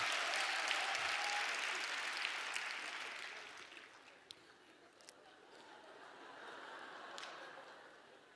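A church congregation at a Korean prayer meeting bursts into loud applause that fades over several seconds into scattered claps, with a voice speaking faintly underneath.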